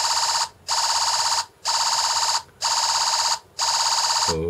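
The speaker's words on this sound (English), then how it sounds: "This is supposed to be a machine gun." A Velleman MK113 sound generator kit emits electronic tone bursts in a steady repeating pattern, five loud buzzing pulses separated by short gaps, a synthetic stand-in for machine-gun fire.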